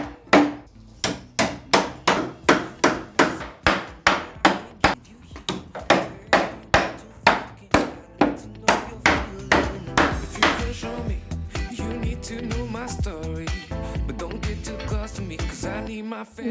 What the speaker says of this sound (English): I want to hit it with my hammer so that it doesn't hurt or scratch anyone who sits on it